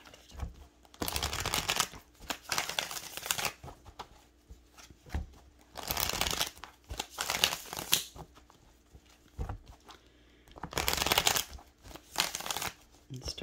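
Tarot cards are shuffled during a reading in several rough bursts of riffling and sliding, separated by quiet gaps, soft and close, with faint background noise and no clear speech.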